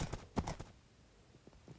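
Video game horse hooves clip-clop on the ground in a Minecraft-style server, a quick cluster of faint hoof knocks followed by a few scattered softer steps.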